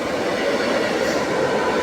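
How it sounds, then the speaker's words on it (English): A train approaching on the rails, a steady loud rumble and rolling clatter of wheels that fills the whole moment without pause. "It's a train coming."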